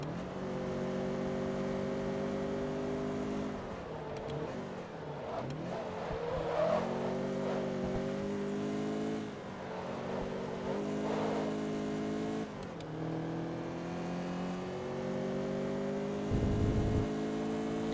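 A Mazdaspeed race car engine in Forza Motorsport 2 drones steadily under load for a long stretch, revving up and down through gear changes and corners, up close and continuous with no talking.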